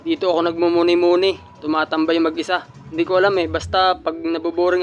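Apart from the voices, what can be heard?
None of the usual background noises is heard.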